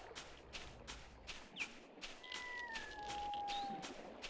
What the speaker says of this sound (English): Is that a cat meowing in the background?